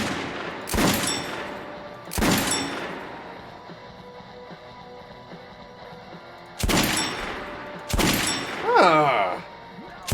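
Gunfire from the video game Metro Last Light Redux, heard as four sharp, loud single shots spaced a few seconds apart, each with a short booming decay, the last followed by a brief whistling ricochet-like warble.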